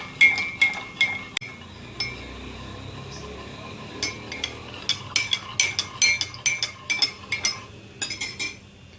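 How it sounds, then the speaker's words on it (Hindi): A metal spoon stirring sugar syrup in a glass or cup to dissolve the last sugar, a close run of quick clinks and taps against the sides in bursts, with no talking. "थोड़ी सी रह गई, उसको हम चम्मच की मदद से हल कर लेते हैं।"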